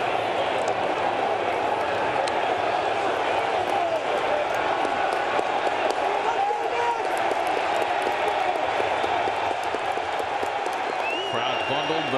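Baseball stadium crowd at a Giants vs Mets game, a dense continuous roar of chatter and cheering from a large, boisterous audience, steady throughout with a commentator's voice faintly under it.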